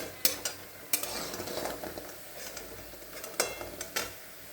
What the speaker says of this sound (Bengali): এখন মুগ ডালের বড়াগুলো একদম লাল লাল করে সব ভাজা হয়ে গেছে।